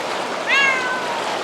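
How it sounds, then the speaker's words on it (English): A pet cat gives a single short meow close by, outdoors, against a quiet background hiss. "Now my cat's gotta go in"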